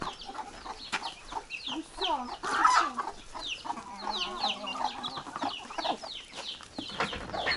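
Chicks and goslings on a village farm keep up a busy chorus of high chirps and peeps, close by and overlapping, with occasional louder calls.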